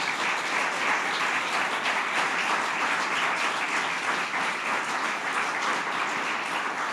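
A church congregation gives a steady, dense round of applause, loud and continuous, with no voices rising above it.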